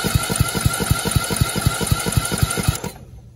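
A lawn mower's starter motor cranks the engine on power from a cordless drill battery wired to the starter, giving a fast, steady chugging rhythm of compression pulses for nearly three seconds before winding down and stopping.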